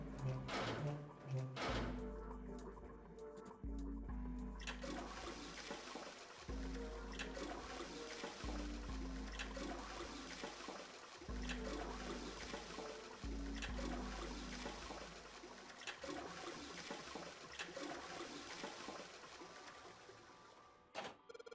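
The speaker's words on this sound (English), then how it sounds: "We really are just straight up flushing the damn toilet." Repeated toilet flushes in the video game 999: Nine Hours, Nine Persons, Nine Doors, several short gurgling rushes of water following one another across the stretch, with a person talking at times.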